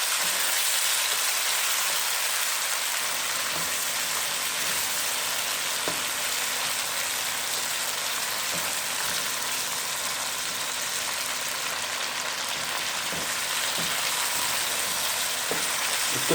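Chicken pieces frying in oil in a pan, a steady dense sizzle that stays loud and even throughout, with occasional soft clicks of stirring.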